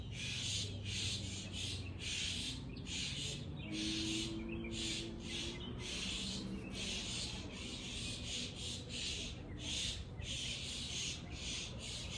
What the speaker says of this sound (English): Those are birds. But I don't know if they're singing. I think they're arguing.